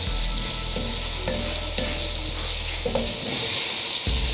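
Crushed red chili being stirred into chicken liver and gizzard curry frying in a pan, a steady close sizzle with a few scraping stirs of the spoon, no voices.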